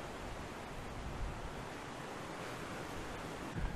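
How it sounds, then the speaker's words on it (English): Strong wind blowing outdoors, a steady broadband roar buffeting close against the phone microphone for the whole stretch, with no talk over it. "God, it's so windy out here."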